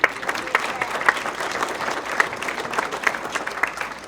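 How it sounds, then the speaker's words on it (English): A city event audience claps for a hall of famer, a steady round of applause with scattered sharper claps and crowd noise throughout. "Round of applause for Flash."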